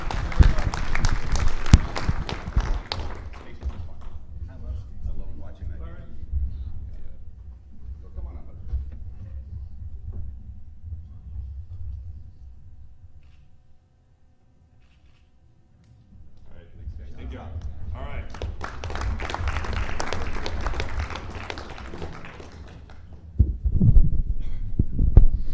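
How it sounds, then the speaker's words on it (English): Loud applause from a crowd at a trophy presentation and scholarship awards ceremony, bursting at the start and swelling again later, fading to quiet in between, with some talking mixed in. "let's get a warm round of applause for all of our world record holders."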